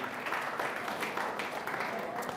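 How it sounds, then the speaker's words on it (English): An audience applauds at a CEO talk event, with dense, steady clapping from a crowd that holds throughout, heard at moderate distance under speech. "Big round of applause again for Rogers and the great work they do"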